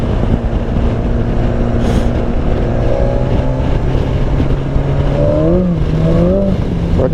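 A BMW S1000XR motorcycle engine revs loudly and steadily, with rising and falling pitch toward the end as the throttle is worked, heard close up over some wind noise.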